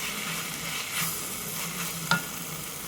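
Tomatoes join pork frying in a pan for Kerala-style pig fry, giving a dense, even sizzle close up with a brief clatter of stirring near the end.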